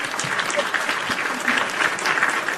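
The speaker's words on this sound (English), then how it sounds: "Round of applause for everyone who's" A live wrestling podcast show audience gives a round of applause, sustained clapping from a crowd with some cheering mixed in, fairly loud and continuous throughout.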